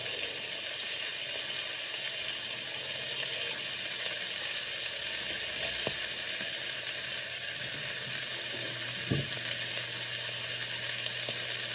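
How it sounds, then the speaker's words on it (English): Bacon and eggs sizzle steadily in a frying pan, a dense continuous crackle with a few sharper pops, loud and close with no talking. "if you can hear me, guys, over the sizzles, over the cracking sizzle"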